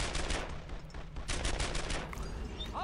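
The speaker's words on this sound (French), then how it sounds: "Ah, yes, c'est une Thompson." Rapid Thompson submachine gun fire in the World War II shooter Brothers in Arms: Earned in Blood, a steady chattering stream of shots with dense low-end thump, loud and continuous throughout.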